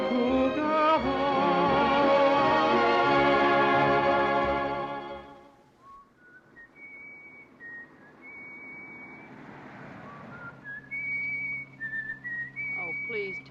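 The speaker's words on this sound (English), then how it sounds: "whistle something else" A loud sustained chord plays for several seconds and fades, then a lone person whistles a slow, wavering tune up close.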